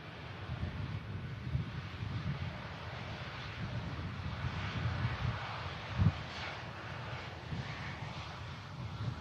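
Loganair aircraft taxiing into a gate at Manchester Airport, a distant low engine rumble with wind noise, steady and faint throughout.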